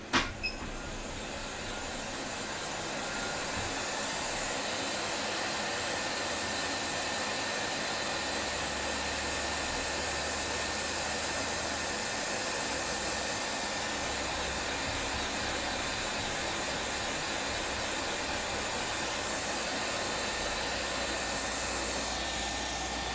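A hot air rework station blows steadily at 99% airflow and 400 degrees, a continuous broadband hiss with a low hum underneath that stays loud and even throughout, with no talking.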